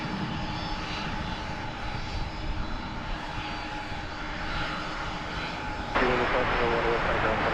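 A jet aircraft close by at DFW Airport at night gives a loud, sustained engine roar that swells toward the end, with voices audible over the noise.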